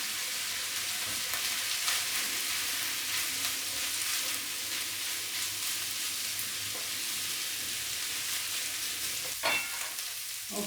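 Onions and bacon cooking in fluid for a classic British bacon and onion roly poly give a steady, moderate sizzle and bubbling throughout, with a brief clatter near the end and no talking.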